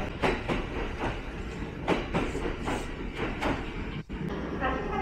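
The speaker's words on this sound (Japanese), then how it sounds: "観光特急青によしが大和西大寺駅から奈良駅に向けて出発していきました" The Kintetsu sightseeing limited express Aoniyoshi departs Yamato-Saidaiji station, wheels clicking in a steady clickety-clack rhythm over rail joints, loud and near, with faint station voices in the background.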